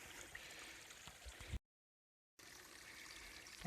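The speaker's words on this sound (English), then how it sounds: "Lots of water still coming down." Water trickles down a muddy canyon trail after rains, a faint steady flowing hiss outdoors that drops out briefly midway before resuming.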